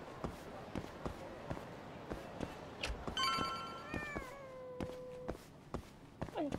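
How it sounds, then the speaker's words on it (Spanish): A cat meows in the video game Judgment, a clear mid-clip call with falling pitch, set against steady rhythmic footsteps or taps and a faint background voice. "Escucho un gatito."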